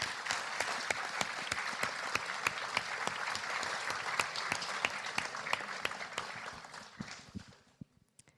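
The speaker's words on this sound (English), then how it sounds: "So please, a round of applause." Sustained applause from an audience in a room congratulating a student team at a master's thesis defense session, steady clapping for about seven seconds before tapering off to a few last claps.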